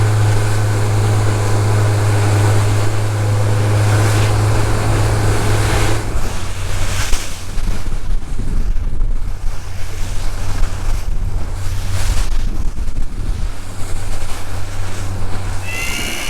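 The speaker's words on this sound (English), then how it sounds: "Let's just hope this wind backs off because it's a bit too gnarly for my liking." Strong wind buffets the microphone on a fishing boat at sea while waves slosh and surge, a loud, constant roar with a low engine hum underneath for much of the time.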